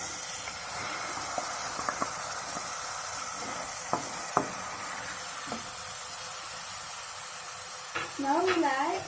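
Onion, ginger and garlic paste fries in a pan with a steady, close sizzling hiss that runs without pause, with a few faint clinks and a brief burst of tonal noise near the end.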